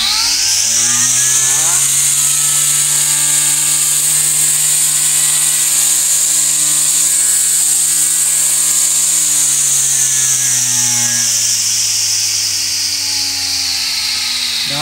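A battery-powered Mitsubishi grass trimmer runs steadily for about fifteen seconds, a loud, close, high-pitched motor whine with a faint rise and fall in pitch as the speed shifts, and no talking.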